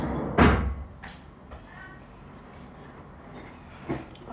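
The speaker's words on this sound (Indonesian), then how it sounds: "aku tutup pintu dulu karena ada teriak-teriak" A door is shut indoors with one sharp thud near the start, followed by faint handling noises, a softer knock toward the end and quiet room tone.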